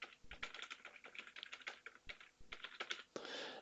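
Quick bursts of keystrokes on a computer keyboard as a password is entered, irregular clicks in close succession with brief pauses, ending in a slightly longer press, heard nearby and alone.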